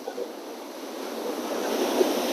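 Sea waves wash onto the shore at a beach in Colombo, a continuous hissing surf that slowly swells louder, with some wind and no one speaking.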